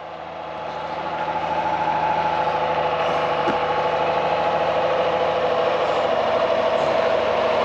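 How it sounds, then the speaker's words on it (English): A heavy water truck engine rumbles steadily nearby, a constant low drone that builds in the first second and holds without pause. "watch that water truck. They might try to spray you."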